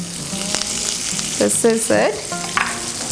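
Lemon rice seasoning with salt and fresh coriander sizzles in a pan while being stirred, with soft frying crackle under clinking, scraping touches of the spoon against the pan.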